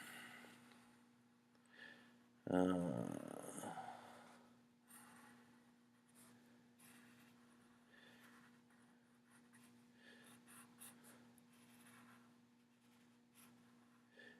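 A pencil rubs over the back of a sheet of paper to transfer a Doodle 4 Google drawing for copying. A short, loud burst of scratchy scribbling comes early, then fades into faint, intermittent rubbing.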